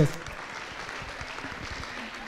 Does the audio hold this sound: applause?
yes